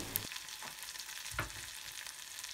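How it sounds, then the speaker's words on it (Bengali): Chopped onion, garlic, green chili and cherry tomatoes fry in a pan and are stirred, producing a soft, steady sizzle with a couple of faint spoon scrapes, fairly quiet and without talking. "পেঁয়াজ আর রসুন কুচি দিয়ে ভালো করে একটু নাড়াচাড়া করে এর মাঝে এখন কাঁচামরিচ আর টমেটো দিয়ে দিয়েছি"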